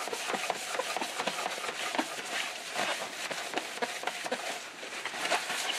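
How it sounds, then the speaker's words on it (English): Quick repeated rubbing strokes as a surface is buffed and wiped clean, a fast, even scrubbing rhythm at moderate distance with no talk. "Buff that off a little bit"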